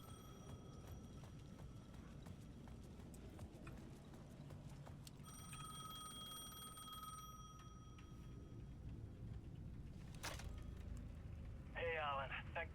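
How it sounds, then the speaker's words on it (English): A payphone rings in the Alan Wake II video game, its bell tones sounding faintly from across a plaza beneath a steady wash of ambient game noise. "The payphone at the edge of the plaza was ringing again."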